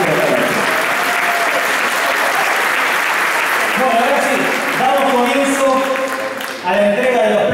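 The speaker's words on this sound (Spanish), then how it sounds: "pido un nuevo fuerte aplauso a todos ustedes para Gabriel Villalba" A theatre audience at an awards ceremony breaks into sustained, loud applause that fills the hall, with a voice speaking over the clapping toward the end.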